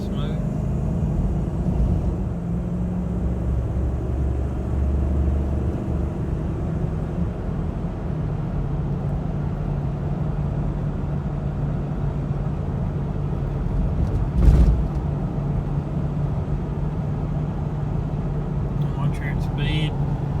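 An old $1000 Jeep drives along with its engine running, a steady low rumble and road drone filling the cabin from start to finish, with one brief louder knock partway through.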